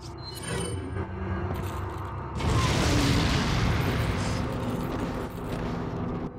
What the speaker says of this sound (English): Let's use a fire grenade on them.